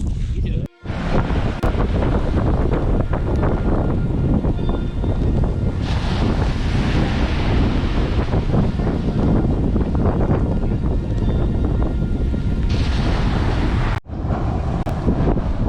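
Strong, steady wind roars and buffets the microphone with a heavy rumble, surf washing beneath it, loud and continuous throughout.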